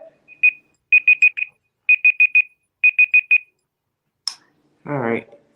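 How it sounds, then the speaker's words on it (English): Electronic alarm beeping in quick bursts of three or four close, clear tones with short pauses between them. A brief voice follows at the end. "All right, that's the alarm."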